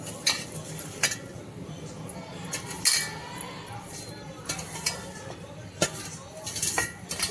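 Ingredients mixed with a spoon in a bowl, giving irregular clinks and scrapes against the sides over a soft background, with occasional quiet voice.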